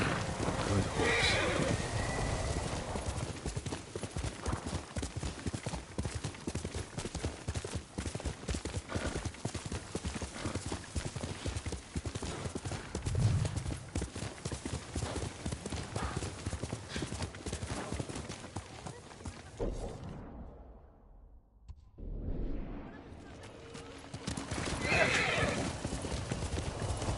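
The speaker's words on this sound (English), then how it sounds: "Good horse." Rhythmic hoofbeats of a galloping horse in a video game thunder steadily, with a horse whinnying over them and a brief lull near the end before the pounding resumes.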